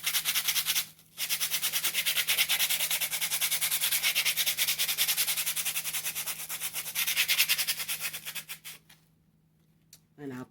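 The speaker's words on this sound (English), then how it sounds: "let's see if I can sand this into this bag and not make a mess" Steady abrasive scrubbing of glittered craft pieces being sanded over a bag, a continuous rasping that runs for about eight seconds, then stops, with a brief resumption at the end.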